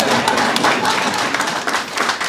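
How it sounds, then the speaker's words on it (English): Audience applause at a memorial lecture, a dense steady patter of many hands clapping at once, fairly loud and continuous throughout with no talk over it. "Can we give him a round of applause?"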